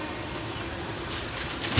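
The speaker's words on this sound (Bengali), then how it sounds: "এই ট্রেন" Train car interior on a Bengal route toward Taudah, a steady, fairly loud rumble of wheels on rails that swells slightly toward the end, with no talk.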